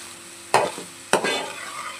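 A spoonful of coriander seeds with cinnamon and cloves fries in a pan under a low sizzle. Two pronounced stirring scrapes cut through it about half a second apart, each trailing off into crackle, with nobody talking.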